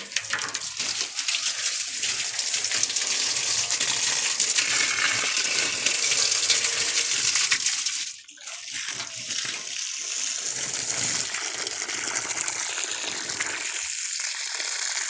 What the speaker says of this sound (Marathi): आता या आंब्याच्या झाडाला पाणी घालते बघा